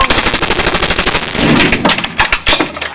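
On a film set, MP5A3 submachine guns fire a loud, sustained rapid burst of close automatic shots in a steady rattling rhythm with no speech.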